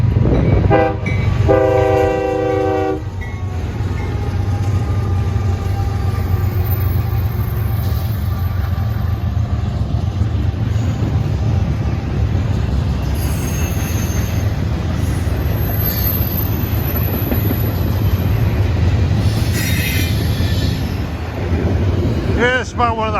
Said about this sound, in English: This is a huge train.